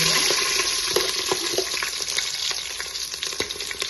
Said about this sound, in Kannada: ಒಂದ್ 2 ನಿಮಿಷ ಫ್ರೈ ಆಗ್ಬೇಕ್ರಿ